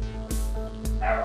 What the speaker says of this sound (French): Oh, le chien, il va pas se calmer.